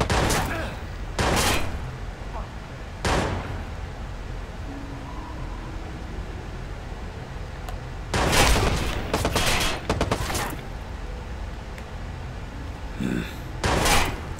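Gunfire in a shooting video game, heard as repeated sharp bursts of shots spread across the stretch, with a steady background game ambience between them.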